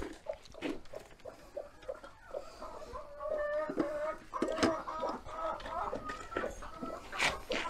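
A young hen clucks in short repeated bursts at close range, fairly quiet, with soft rustling around it.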